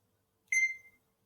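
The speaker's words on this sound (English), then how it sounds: "it makes like a beeping noise, and that's when you know that it's scanned" A single short electronic barcode scanner beep, bright and clean, in an otherwise quiet room.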